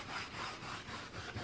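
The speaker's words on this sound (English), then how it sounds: "Brass knob a little rub." Steady rubbing on an antique brass knob to work off dirt, a soft continuous scrubbing with gentle rhythmic strokes, close and quiet with no talk.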